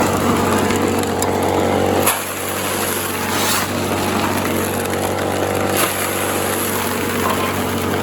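A gold drywasher's blower runs loudly and continuously with a constant engine roar, close by, while a shovel adds brief scraping sounds at a few points; no talking.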